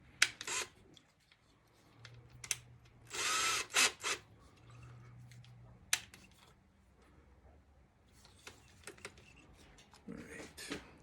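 Power drill driving screws into holes while building a lab flow hood, with short whirring bursts, one longer run midway, scattered clicks and handling knocks, close and moderately loud, with a few brief voice sounds.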